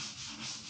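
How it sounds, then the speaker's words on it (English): Hand sanding on an old hundred-year-old wooden cupboard gives a brief, continuous gritty rasp, close and soft, with no talking. "Until then, I will keep sanding."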